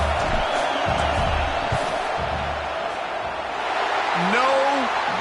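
Football stadium crowd roaring steadily through a fourth-down field goal attempt, a dense, loud wash of yelling and whooping that swells slightly near the end.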